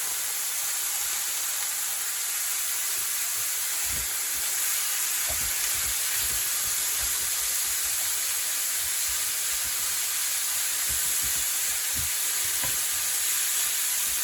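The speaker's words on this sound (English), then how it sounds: "I'm just going to add the extra lean minced beef into there now." Extra lean minced beef frying in an Omnia oven pan inside a van, a constant loud hiss of sizzling with occasional soft knocks and stirs, no one speaking.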